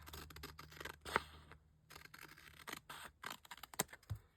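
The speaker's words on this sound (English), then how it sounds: "I'll go ahead and cut the edges of this one." Scissors snip around the edges of a folded paper mini zine, giving quiet, close crisp cuts in an uneven rhythm with faint paper rustling between them.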